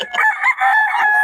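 An old fighting rooster crows close and loud, a single sustained strained call with a harmonic, slightly raspy tone lasting over a second.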